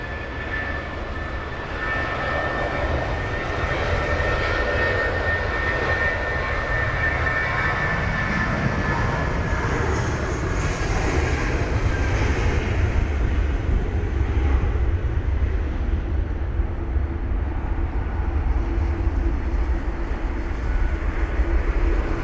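A British Airways Airbus A320 jet departs London Heathrow on a wet runway, its engines giving a loud, steady broadband roar that builds and holds close by for the whole stretch, with no talking.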